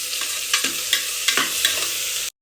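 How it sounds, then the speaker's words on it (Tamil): Ginger and garlic frying in a pan, a steady close sizzle broken by several light knocks and scrapes from stirring, then cutting off abruptly. "இஞ்சி பூண்டு போட்டு நல்லா வதக்கலாம்."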